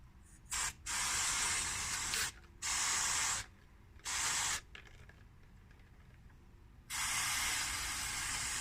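Aerosol cleaner sprayed in several loud bursts of hissing onto a car's throttle body while cleaning it to fix a fluctuating idle, with short pauses between the sprays and a long final burst.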